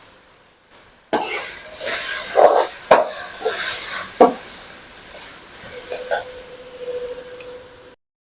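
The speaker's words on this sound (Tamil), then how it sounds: "ஒரு பக்கம் இந்த வெங்காயம் வெந்துகிட்டே இருக்கணும்" Onions cook in a pan for fish puttu, a steady sizzle broken by louder stirring scrapes and knocks, with a cough near the start.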